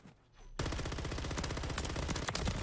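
Rapid gunfire in a Call of Duty zombies video game: after a quiet start, a continuous loud burst of automatic fire runs steadily to the end, close and dense with no talk.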